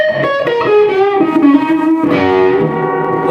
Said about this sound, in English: I've oversaturated a little bit with my digital reverb slab in the front of the amp just to show you what the problem is